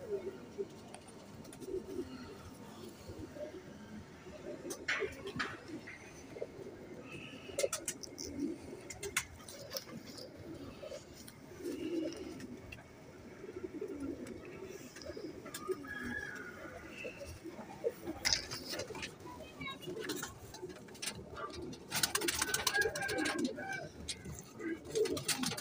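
A frozpuri pigeon, a female, coos softly and intermittently near at hand while someone talks over it, with faint scuffs and clicks around the low throaty calls.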